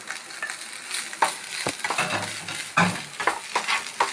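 Frying in coconut oil in a pan, with a soft continuous sizzle broken by repeated clinks and scrapes of stirring, close and moderately loud with no talking.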